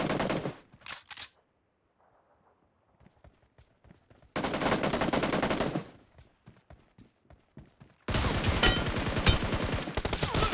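Gunfire from the video game PUBG: loud, dense bursts of automatic shots in three stretches, with a short burst early on, a longer volley in the middle and a sustained barrage at the end, separated by quieter sparse pops.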